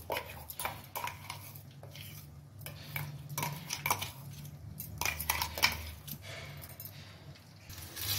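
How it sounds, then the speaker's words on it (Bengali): Okra-recipe masala paste being scraped onto a plate brings repeated clinks, taps and scrapes of metal utensils against dishes, an uneven close-up clatter with no talking. "আমি এখন এই প্লেটে ঢেলে নেব পেস্টটা"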